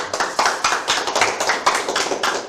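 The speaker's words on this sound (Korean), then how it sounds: "다시 한번 박수 치겠습니다." An audience applauding at a televised public forum, a steady, close patter of many hands clapping in quick overlapping waves, with no talking.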